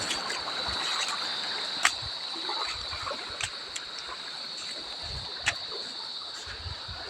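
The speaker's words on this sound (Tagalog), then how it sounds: "Dito tayo sa tabing baybay." Water washing and splashing along a seashore in an even, moderate wash, with a few sharp splashes or knocks standing out now and then.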